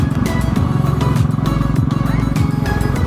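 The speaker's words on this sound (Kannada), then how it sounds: "ಕವಾಸಕಿ ಗಾಡಿ ಅದು, ಮೋಸ್ಟ್ಲಿ ಕವಾಸಕಿ ವರ್ಸಸ್ ಇರ್ಬೋದು" A Kawasaki Versys motorcycle passes on a busy Bengaluru road, its engine a steady, close, throbbing drone over the constant rumble of surrounding traffic.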